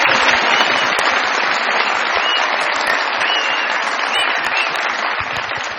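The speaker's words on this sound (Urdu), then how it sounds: "بہت ساری تالیوں میں ویلکم کیجیے گا" A studio audience at a comedy talk show claps in sustained, dense applause for a prize winner who won a motorcycle, loud and even throughout before fading slightly at the end.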